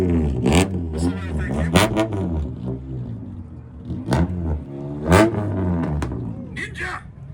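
A Kawasaki Ninja ZX6R sport bike revs hard at a 2-step rev battle in Chandler, Arizona, with several sharp rising blips and pops among other engines and talking people nearby.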